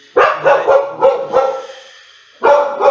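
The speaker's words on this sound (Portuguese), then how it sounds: "Minha cachorra" A dog barks repeatedly indoors in a home, a quick burst of three or four loud, close barks, a short pause, then another bark, with no talking over it.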